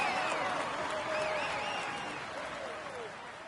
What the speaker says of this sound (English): Come on, let's applaud him loudly.